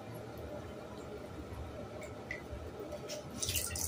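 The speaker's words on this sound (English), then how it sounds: "scrubbing like what I'm doing right now. You know, squeezing out the soap and water" Soapy water squeezed and wrung out of wet clothes in a bathtub, a continuous wet squishing and dripping with small splashes, close and fairly quiet, with no talk over it.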